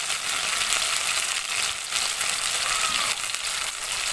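Spice masala with chilli powder, sugar and salt sautéing in a pan for a vegetarian festive thali, a steady close hiss and sizzle with faint stirring scrapes throughout, no voices.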